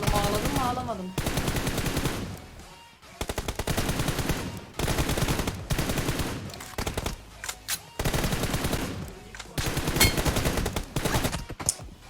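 Gunfire bursts in the shooter game PUBG Mobile: rapid short volleys of four or five rounds repeat throughout, loud and close, over a dense bed of game music and effects.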